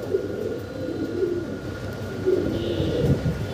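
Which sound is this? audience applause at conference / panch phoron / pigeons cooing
pigeons cooing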